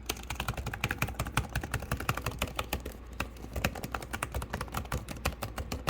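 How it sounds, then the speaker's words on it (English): Rapid, continuous clicking of keys on a Microsoft Surface 13.5-inch laptop keyboard, steady and close, with no voices. "That's pretty much what you get on the keyboard noise."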